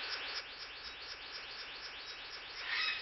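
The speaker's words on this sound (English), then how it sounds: "A male bluebird of paradise is advertising for a mate." A male bluebird of paradise calls during a courtship display, a steady stream of high, repeated chirping notes that rises in loudness near the end, with no voices.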